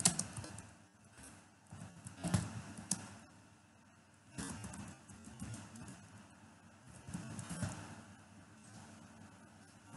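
Typing on a computer keyboard while entering Malayalam text with the English alphabet: soft, irregular clicking keystrokes in loose bursts at low level, with brief pauses between them and no voices.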